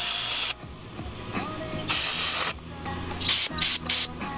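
Spray cleaner is blasted onto the carburetor parts of a Yamaha YZ80 dirt bike in several hissing bursts, some long and some short, with quiet pauses between them. Faint background noise fills the gaps.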